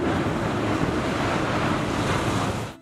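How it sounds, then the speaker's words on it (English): A wave thrown up by a ship launch surges as a loud, steady broadband rush of churning water, close and continuous, with no voices, cutting off abruptly at the end. "This created a wave which swept right up onto the road and went into the fields nearby"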